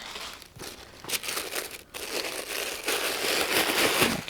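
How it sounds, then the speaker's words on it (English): Tissue paper crinkles and rustles continuously as it is pulled out of an Oroton leather bag, a close, dense crackling that keeps building without pause and with no talk. "take the tissue out, excuse the noise."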